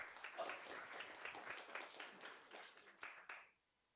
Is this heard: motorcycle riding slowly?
no